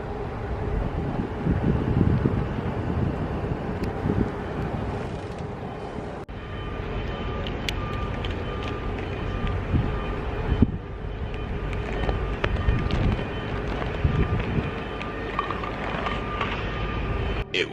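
Wind gusts at a beach, with a steady broadband rumble and rushing buffeting against the microphone throughout and no talking.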